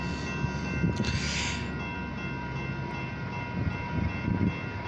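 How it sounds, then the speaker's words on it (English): An OC&T short tanker freight train rolls past near Titusville, Pennsylvania, a steady loud rumble of wheels and cars with a brief hissing burst partway through, close by and continuous. "OC&T's very short tanker train"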